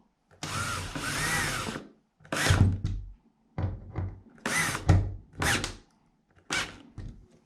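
Power drill driving screws to mount a toilet roll holder into drywall, in several separate bursts of whirring with short pauses between, close and fairly loud, no voices.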